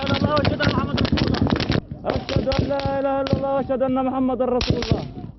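Rapid bursts of sharp cracks and thuds, loud and close, with a short pause before the volley resumes, while voices talk and shout underneath, as gunfire hits emergency responders in Gaza.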